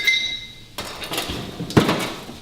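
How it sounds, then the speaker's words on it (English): Handful of ice cubes dropped into a blender jar for a smoothie in a home kitchen, giving a sudden clattering burst of hard clinks and knocks, then a second sharp crash of cubes, fairly close. "Take handful of ice cubes"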